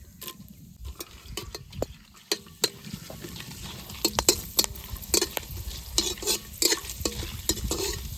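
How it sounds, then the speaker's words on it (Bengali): Bay leaf, cinnamon, cloves and cardamom frying in hot oil, crackling with quick clicks and sharp taps of a spoon on the pan, the bursts growing busier and louder toward the end, no talk. "এবার তেলের উপর দিয়ে দেবো প্রথমে তেজপাতা, দারচিনি, লবঙ্গ, এলাচ"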